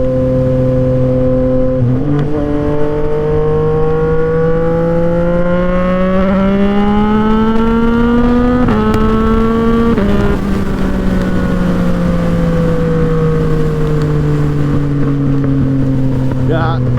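Yamaha MT-09 motorcycle engine running on the road, a loud, steady near drone that climbs and drops in pitch as it speeds up and shifts gears, with wind buffeting the microphone.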